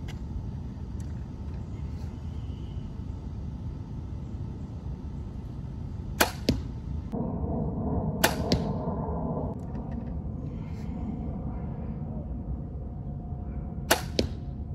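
Arrows from a Hoyt RX-7 Ultra bow with a heavy draw weight strike a target on an outdoor range, giving three sharp, loud thwacks spaced seconds apart over a low rumbling background.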